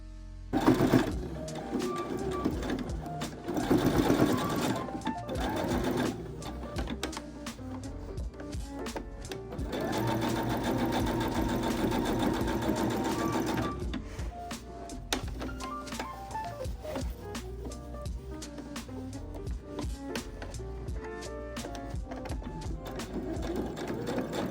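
A sewing machine runs in steady bursts while understitching the facing of a simple tent dress, its rapid needle clatter rising and pausing at intervals, close and clear with no talking.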